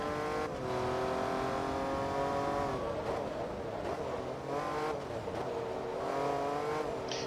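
Race car engine in Forza Motorsport 2, from an endurance race with Jaguar cars, drones steadily and loudly with rising and falling pitch as revs shift and an opponent closes in, a brief tire squeal near the end.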